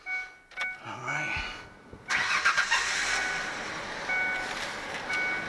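A 2001 Ford Ranger 3.0 V6 cranks briefly, then catches and settles into a steady, close idle that carries on to the end with no talk.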